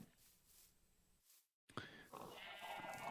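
Sheep bleat in a blocky Minecraft-style game world, a few short cries rising over soft ambient sound, with a brief silent gap partway through.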